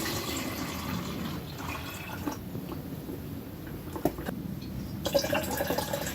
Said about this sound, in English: You take your mixture that's already in the glass or pitcher and add it into a smaller container.